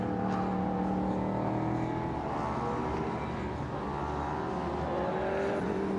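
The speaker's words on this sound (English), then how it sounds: "The Thunder cars, powered by a 1 litre motorcycle engine that's lifted out of an Aprilia RSV4" Thunder race cars with carbon-fibre tubs and transversely mounted 1-litre Aprilia RSV4 motorcycle engines race at Montmeló, a steady, loud, high-pitched engine drone with layered revving that holds throughout, no talk over it.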